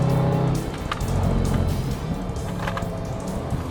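A Range Rover Sport SVR, a full-size performance SUV, drives with a loud, steady engine roar and road rumble throughout, with no talking.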